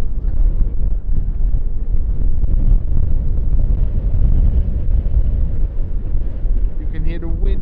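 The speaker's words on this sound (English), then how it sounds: "You can hear the wind blow as crazy as it can." Strong wind roars and buffets the microphone at an airport runway, a loud, continuous low rumble throughout with a faint higher tone near the end.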